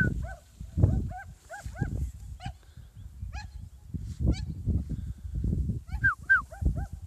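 Kelpie named Bert barks in short repeated yaps with a few whimpering whines, close by over a steady low rumble of wind or handling noise, with no talk.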